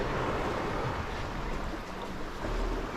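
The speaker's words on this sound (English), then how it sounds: "you can probably hear now, these swells are coming in" Ocean swells rolling in at a dock, a steady broadband wash of water and wind noise that stays fairly loud and even throughout, with no voices.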